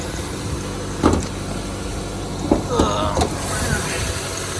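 The engine of a salvage Dodge Challenger Hellcat idles roughly, a steady low rumble with a few uneven bumps and knocks, close by. Brief sounds that may be voices come through near it.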